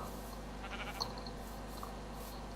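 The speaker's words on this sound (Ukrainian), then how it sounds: "Чорна овечка" A black sheep bleats once in the video game Minecraft, a short, soft blocky bleat over a steady low hum, with no talking.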